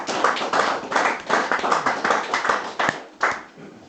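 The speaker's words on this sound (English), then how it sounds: "Thank you for your applause" Pub audience at an open mic night in an inn applauding a performer, a dense burst of hand claps that swells and fades in waves, fairly close and loud, with no talk over it.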